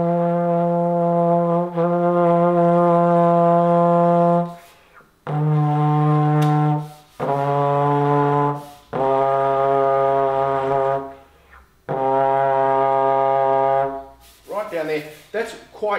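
A Tromba plastic trombone sounds long, low, buzzy held notes, each sustained several seconds with short breaks between, strained and somewhat uneven, close-miked with no talking over it.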